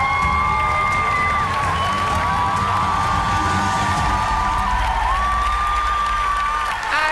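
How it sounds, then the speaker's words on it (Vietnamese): A crowd at a karate event cheers, whoops and claps loudly and continuously for the visiting team, with shouted voices and whistle-like tones riding over the dense noise. "ai ủng hộ đội khách vỗ tay."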